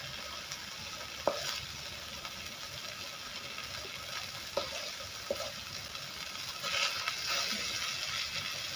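Big Muru fish coated in Mangalore-style masala fries in a pan with a steady soft sizzle, broken by a few light clicks of stirring or turning.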